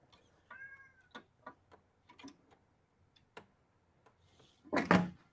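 A pet cat meows close by, giving short chirpy calls followed by a louder meow near the end, with faint ticking underneath and no one talking.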